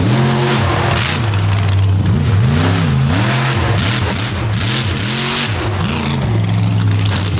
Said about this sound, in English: Hard hit for the big Ram dump truck out of Indiana.